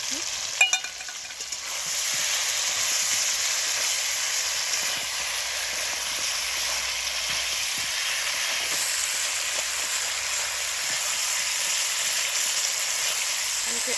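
Fried potatoes hit a hot pan of fried rice with a sharp burst of sizzle, settling into a steady, loud, hissing fry that continues without talk.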